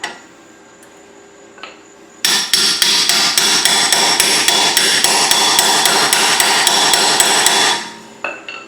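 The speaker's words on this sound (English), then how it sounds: "we should be able to hammer it off" A steel hammer strikes a locking wheel nut on a car wheel, a rapid steady run of loud, ringing metallic blows close by, lasting several seconds before stopping abruptly.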